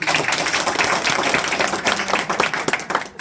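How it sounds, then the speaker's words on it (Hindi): A burst of applause from a room full of people, dense rapid clapping that holds steady and fades slightly at the end. "वेरी गुड, तालियां हो जाए सर"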